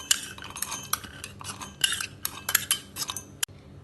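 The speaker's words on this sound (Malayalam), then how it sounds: "ഇത് അരച്ചെടുക്കാൻ വേണ്ടി മിക്സിയുടെ ജാറിലേക്ക് ഇടാം." Almond pieces tumble into a mixer grinder jar with a run of close, bright clinks and rattles, irregular and busy, with no talk.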